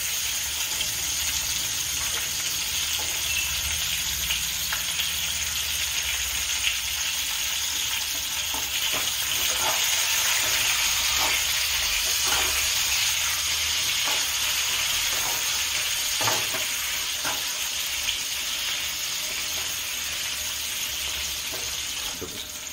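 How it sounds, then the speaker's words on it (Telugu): Bitter gourd pieces sizzle in a pan over a medium flame, a steady close hiss of frying with occasional soft spatters and stirring clicks, continuous and without talk. "ఇప్పుడైతే వీటిని ఇలాగా బాగా మీడియం ఫ్లేమ్లో పెట్టుకొని కొంచెం బాగా ఫ్రై అవ్వనివ్వాలి, ఒక 5 మినిట్స్"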